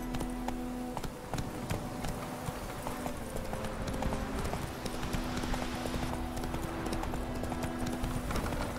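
Hoofbeats of a horse in The Witcher 3 video game ride in a steady, continuous clip-clop rhythm, close and prominent over a constant low game ambience for the whole stretch.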